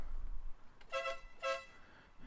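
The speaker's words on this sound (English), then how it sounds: "is an air horn, so that people can hear you" Two short, bright air horn blasts from a 1972 Volvo 1800E in quick succession, loud and close, with quiet background between them.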